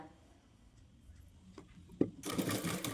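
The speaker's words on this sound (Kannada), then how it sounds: "ಇದನ್ನು ಕೂಡ ಅದೇ ರೀತಿನೇ ಸ್ಟಿಚ್ ಹಾಕೊತೀನಿ" A sewing machine stitches a garment sleeve, starting with faint mechanical ticking and then breaking into a loud, steady run of rapid stitching for the last second or so.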